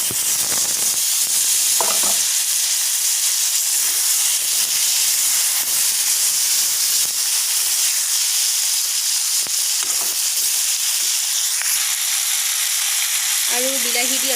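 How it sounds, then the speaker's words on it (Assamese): Chopped tomatoes with turmeric fry in a hot pan, giving a loud, continuous sizzle and steam hiss throughout, with occasional brief stirring scrapes and no talk. "আৰু বিলাহী দি অলপমান সময় ভাজিলোঁ"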